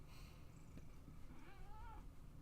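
A cat purring close to a microphone during a Minecraft session: a faint, low, continuous rumble with a brief soft meow-like rising tone, with no talking.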